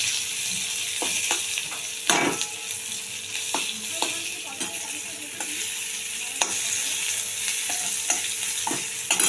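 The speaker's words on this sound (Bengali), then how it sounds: "রসুন দিয়ে রসুনটা একটু ভেজে নেবো" Steady, bright sizzling of garlic frying in hot oil, with occasional scraping taps of a spatula against the pan.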